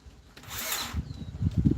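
A power drill whirs briefly while driving a screw into a greenhouse frame, followed by low rattling and clunking of the tool against the structure, close and moderately loud.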